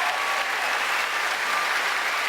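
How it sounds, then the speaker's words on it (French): A gala audience applauds the dancers of a dance school, steady and dense clapping from a large crowd throughout, fairly close and even in level. "On peut les applaudir, s'il vous plaît."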